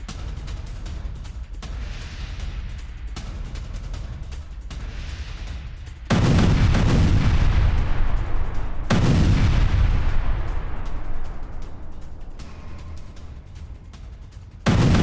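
Controlled demolition of a two-kilometre Hamas tunnel in Jabalia, Gaza, by IDF combat engineers: low rumbling booms, then two sudden loud blasts a few seconds apart that roll on and fade slowly, with another blast at the very end.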